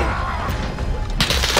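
Gunfire in the shooter game Call of Duty Warzone on Rebirth Island, a continuous dense burst of shots and impacts from close by, growing harsher and louder toward the end, with no talk.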